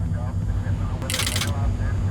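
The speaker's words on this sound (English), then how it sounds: "3 circuit breakers have popped out." Aircraft circuit breakers pop out in a plane cruising toward Toronto on a June 1983 evening, making a brief burst of sharp clicks over a steady low cabin engine drone.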